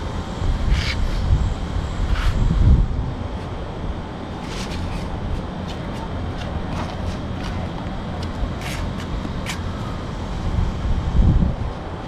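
Wind gusts buffet a microphone outdoors during kite flying in Jim Corbett. The rumble is steady and moderately loud, swelling in a few stronger bursts, with faint scattered background sounds and no talking.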